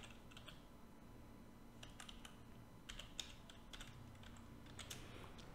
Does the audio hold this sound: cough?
no